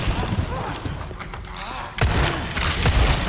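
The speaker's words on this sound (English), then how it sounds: "I go ahead and shoot him." Rapid gunfire and heavy booms in Resident Evil 4 Remake, a dense burst of shots and impacts that grows louder partway through, mixed with game noise and talk.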